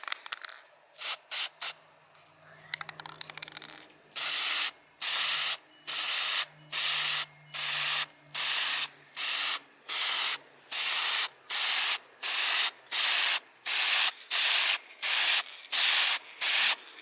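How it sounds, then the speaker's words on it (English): A 99-cent enamel spray can coats a Honda CRF50 motorcycle frame in a backyard paint booth. After a few short bursts come a long even series of loud, close hissing sprays, each lasting about a second with brief pauses between. "And our 99-cent quick color spray enamel. Go ahead and give this a little light coating."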